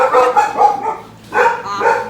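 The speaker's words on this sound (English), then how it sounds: "Your dumb brothers just got home and set the dogs off." Several dogs barking together indoors when people arrive home, loud and close. Repeated overlapping barks in two bursts with a short lull between, and no talking.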